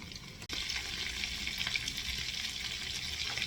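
Hungarian crispy meatballs (fasirt) fry in a pan with a steady, close crackling sizzle that carries on without a break after a brief soft clunk at the start.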